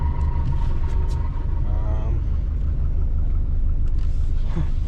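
A compound turbo Subaru car cruising, with a deep, loud continuous engine rumble heard from inside, brief higher whistling tones rising over it and faint interior clicks.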